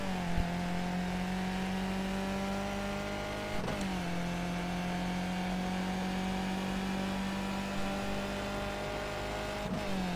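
Skip Barber race car engine in iRacing at Brands Hatch, a steady loud drone held at high revs with two brief dips around gear shifts, running continuously and alone.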